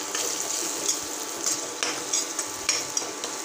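Spices with turmeric stirred on low heat for pav bhaji: a soft frying sizzle broken by several quick spoon scrapes and taps against the pan, close and unaccompanied by talk.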